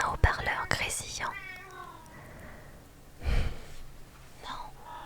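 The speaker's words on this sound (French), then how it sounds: "Non, non mon chat, non, ça sert à rien de miauler, t'auras rien." A cat meows loudly and close, with a quick pair of calls followed by a longer drawn-out wavering meow, then a softer call later, set against quiet breathy whispering.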